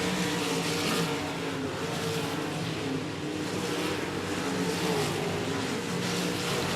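Sprint cars racing at a speedway during a SUS Sprint Cars event, a dense continuous engine roar from several cars at speed, loud and steady throughout with no talk over it.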